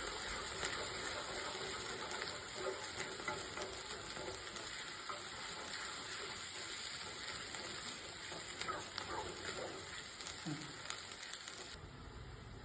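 Ginger garlic paste, two spoonfuls, sizzles and fries steadily in a pan for a prawn and raw mango curry, a continuous close crackle with occasional stirring scrapes throughout.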